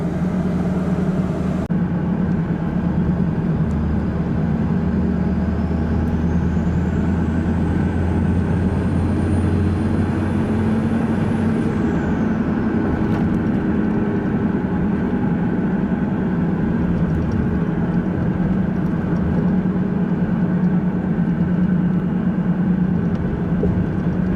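A 2007 pickup with a 5.9 Cummins diesel on a test drive after a rear gear swap: a loud, steady engine drone heard from inside, with a whine that rises, holds and then drops away.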